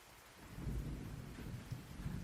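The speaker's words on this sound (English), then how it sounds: "Rain clouds gather and rain falls over the city of Needlepoint" Rain pours steadily over a city while deep thunder rumbles low and close, swelling after a quiet start and rolling on without pause, no voices.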